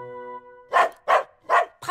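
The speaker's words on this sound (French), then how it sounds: "n'aboie pas après les résidents" A small cartoon dog lets out three quick, bright barks, close and loud, with a fourth starting at the end, after a sustained musical tone.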